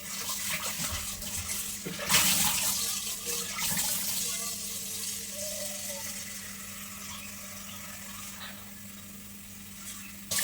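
Running tap water splashes steadily over a cooking pot being washed at a sink, a continuous mid-level rush with a louder burst near the start, no speech.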